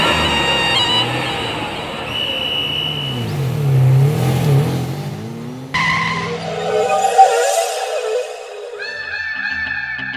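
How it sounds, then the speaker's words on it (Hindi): A car starts up and pulls away, with engine revving and tires skidding loudly for several seconds before the sound cuts to a quieter scene. "चलिए गाड़ी स्टार्ट कीजिए"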